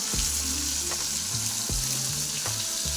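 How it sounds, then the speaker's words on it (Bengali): Fish sizzles and crackles in hot oil, a loud, constant frying hiss with a low hum underneath. "তেলও দেখো আমার গরম হয়ে গেছে যাবো মাছ এই মাছগুলো মাছ ভাজা বসিয়ে দিয়েছি"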